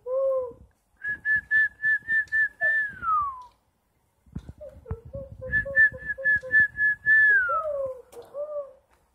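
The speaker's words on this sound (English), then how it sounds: "Every time I whistle," A person whistles two bursts of repeated high notes to baby birds at a state park, each run ending in a falling glide, with soft chirps and a few low cooing notes between, close and fairly quiet.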